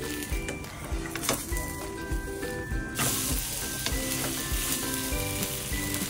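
An uttapam topped with onion, carrot and tomato cooks in ghee on a pan after flipping, a continuous bright sizzle with occasional light clinks of a utensil, close and steady.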